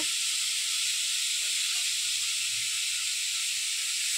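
Star fruit (kordoi) hits hot oil already spitting with mustard seeds for an Assamese fish and star fruit dish, giving a steady, loud, unbroken sizzle and hiss that lasts throughout.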